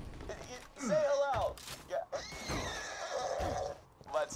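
A horse in the game Borderlands 2 neighs and whinnies in several loud, shrill bursts, with snorts and hoof clops in between, while players talk over it.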